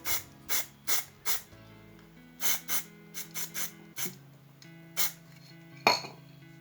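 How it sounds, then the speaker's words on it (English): A series of short, sharp hissing sprays from an aerosol can of car touch-up paint sprayed into its cap, repeated in quick bursts, close up, with a faint tonal hum underneath. "And after that, spray some into the cap."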